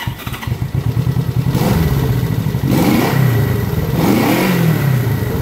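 Honda CB350 motorcycle engine running after repair, starting with sputters and then idling close and loud, with several short revs rising and falling in pitch.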